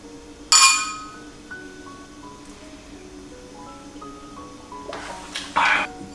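Glasses clink together in a celebratory toast at a Dragon Boat Festival family gathering in Sweden, two bright, ringing bursts, one near the start and one near the end, with quiet murmuring in between.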